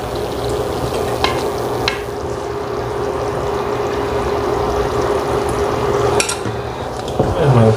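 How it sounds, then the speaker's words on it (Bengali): Meat going into biryani in a cooking pot: a steady, loud frying sizzle fills the whole stretch, with occasional clinks of a utensil against the pot and a stirring scrape near the end. "এখন আমি এটার সাথে মাংস দেব।"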